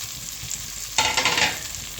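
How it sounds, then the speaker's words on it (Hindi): Okra (bhindi) fries lightly in a pan: a quiet low hiss for the first second, then a sudden louder burst of sizzling and stirring that gradually eases, close and without speech. "इसको हम इतना बस लाइट सा फ्राई करेंगे"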